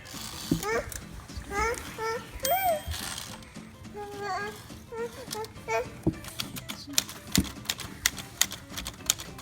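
Typing on a 1957 Tower Chieftain II typewriter, with sharp, uneven key strikes that become faster and more clustered toward the end, heard close beside a baby's babbling and squeals.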